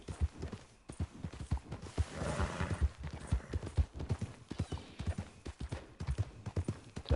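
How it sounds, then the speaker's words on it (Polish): Horse hooves clip-clopping in Red Dead Redemption 2, a steady walking rhythm of close hoofbeats throughout, with a brief breathy snort in the middle. "to mój koń parska"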